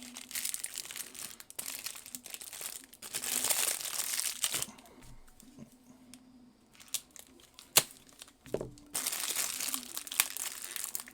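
Packing tape being peeled and torn off a knife package, with bursts of crinkling, ripping and crackling plastic between quieter pauses, close to the microphone.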